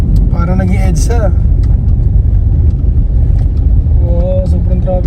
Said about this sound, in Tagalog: Oo, sobrang traffic ng expressway.